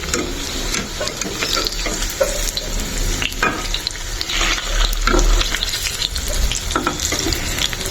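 Egg-coated Maggi noodle pakoras sizzle and crackle steadily in hot oil in a home kitchen, with occasional clinks of a utensil stirring or turning the pieces; close, continuous frying with no talk.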